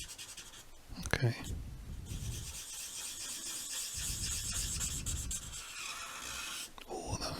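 A Promarker pen colours on paper, giving close, scratchy strokes that come and go with a few sharp squeaks, under soft talk.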